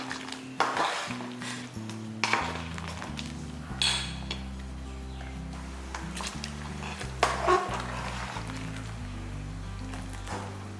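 Ground coconut and onion paste being stirred into mutton curry in a metal pot, with scattered clinks and scrapes of the ladle against the vessel over a low humming background, fairly faint.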